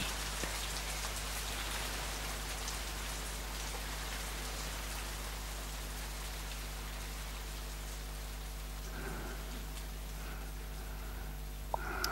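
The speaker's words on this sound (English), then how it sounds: "This is the rain." Steady rain falls on a stage, a dense even hiss of drops that carries on for the whole stretch over a low hum, with a few faint clicks near the end and no voices.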